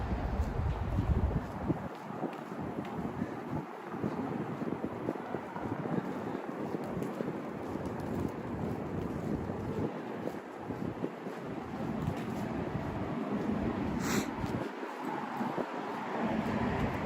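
Steady outdoor wind in Midtown Manhattan at night rumbling and buffeting across the whole stretch, broadband and continuous with low gusty thumps, no talk.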